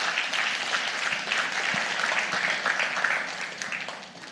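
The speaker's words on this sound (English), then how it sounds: "Let's give them a round of applause." A crowd at a book launch applauds continuously, many hands clapping in a dense wash that fades slightly toward the end.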